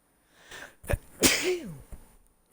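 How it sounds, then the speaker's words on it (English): A single person sneezes close up, a sharp nasal inhale building into an explosive burst and a short voiced trailing tail, with a quieter breath just before and a small sound after. "I'm gonna sneeze."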